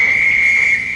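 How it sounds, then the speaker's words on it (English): A railway guard's whistle gives one steady shrill blast that is loud and close, heard alone. "The guard's whistle blew and Sir Greedy departed"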